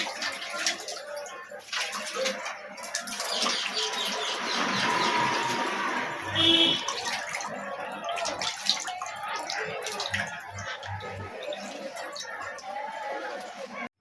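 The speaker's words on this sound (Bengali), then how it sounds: "কলা দুটোকে আগে ধুয়ে নেব।" Raw green bananas washed by hand in a bowl of water in a home kitchen, heard as continuous close splashing and sloshing. Faint birdsong and a rooster-like call can be heard in the background.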